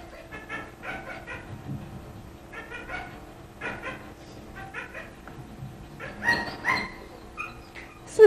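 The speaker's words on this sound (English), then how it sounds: "now the border collie is starting to approach." A border collie gives a run of repeated barks and yips at moderate distance, in irregular bursts across several seconds, with no talking.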